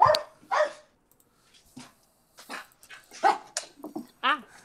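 A pet dog barks at someone at the door in a scattered series of short, close barks and yips. There is some whimpering between them and a voice is heard in the background.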